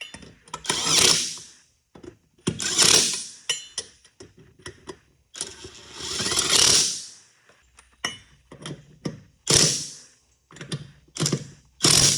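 A ratchet tightening wheel lug nuts on a car in a driveway, repeated bursts of rapid ratcheting clicks with short pauses between strokes, loud and close with no talking.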